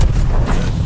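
Grenade explosion in the World War II shooter Call of Duty Vanguard, a single loud, low rumbling boom that fills the short moment and rolls on without clear separate impacts.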